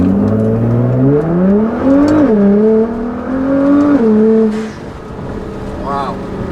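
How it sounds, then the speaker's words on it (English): A tuned 2015 Nissan GT-R with a Meisterschaft exhaust and GFB blow-off valves accelerates hard in first gear, its loud, close engine note climbing steeply in pitch with brief dips and recoveries before easing off. "I'm just going to punch it in first gear."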